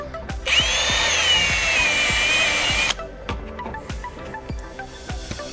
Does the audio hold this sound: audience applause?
no